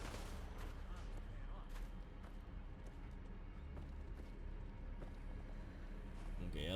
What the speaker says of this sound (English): Or there's shooting going on. I don't know if that's like the Diamond City security.